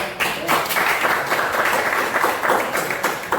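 An audience applauds in a classroom coaching session on academic supervision, a steady patter of many hands clapping at moderate loudness, lasting a few seconds without pause.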